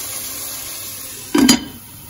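Okra pan-roasting in a pot, a quiet background hiss broken by one short clattering burst of sizzle and stirring midway before settling back down.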